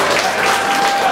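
Applause from a crowd at a buck pole hunting event, honoring a hunter's biggest buck, a steady dense wash of clapping throughout the short moment.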